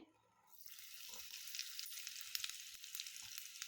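Asafoetida, fenugreek and fennel seeds sizzle and crackle in hot oil, a tempering for a morawala (Indian gooseberry) pickle; a dense, steady frying hiss rises after a quiet half-second and continues close and loud to the end.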